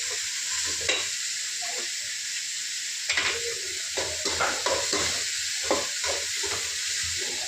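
Green chillies fry in a pan under a continuous close sizzle, broken by repeated scraping stirs at irregular intervals.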